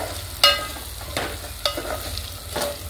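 Ginger garlic paste and tomatoes fry in a pan with a soft, low sizzle, punctuated by a few sharp spatula clinks and scrapes spaced about a second apart, nearby and fairly quiet.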